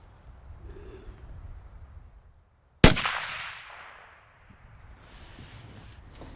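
A single sharp rifle shot cracks out close by after a quiet stretch. Its report rings and decays over about a second, with faint rustling and handling noise before and after.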